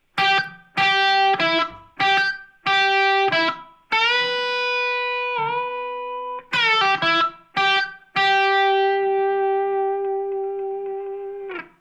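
An electric guitar plays a lick of quick plucked notes and longer sustained ones, including a note that bends upward in pitch, with no talking.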